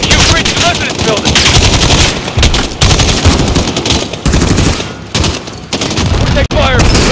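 Dense, continuous automatic gunfire from a US embassy siege battle in Call of Duty Modern Warfare, loud bursts running almost without pause with brief gaps, under battle chatter.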